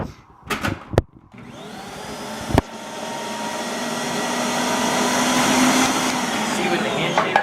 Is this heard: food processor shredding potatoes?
yes